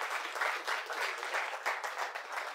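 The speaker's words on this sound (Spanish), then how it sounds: "Un aplauso para Mario Zapata." A seated audience at a university physics colloquium anniversary claps for a speaker, a sustained, even wash of many hands across the whole stretch with no voices standing out.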